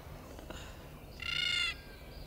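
A crow, or a similar bird, gives a single harsh, fairly faint caw from some distance, standing out against low outdoor background noise.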